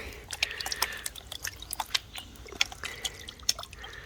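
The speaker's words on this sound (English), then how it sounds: "Let's pan this down, see if we got any collar." Water sloshing and dripping in a gold pan as it is washed and swirled, with quiet irregular splashes and trickles close by.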